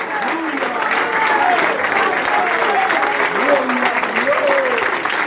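Congregation applause at a live evangelical church service, a broad steady wash of clapping held at constant level throughout, with voices and cheering rising and falling above it.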